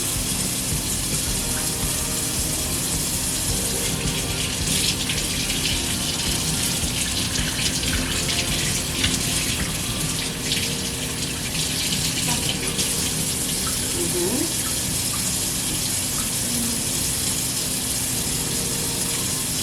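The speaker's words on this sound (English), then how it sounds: "So we're done rinsing the steak" Tap water runs loudly and steadily into a kitchen sink as a raw T-bone steak is rinsed, a constant close gushing hiss with no pauses.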